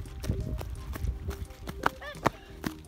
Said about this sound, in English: Lots of horses there.